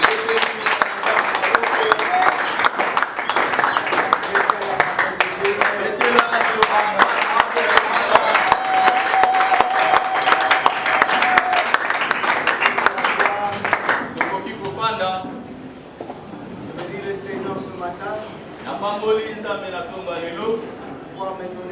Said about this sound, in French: Nous acclamons très fort la parole de Dieu.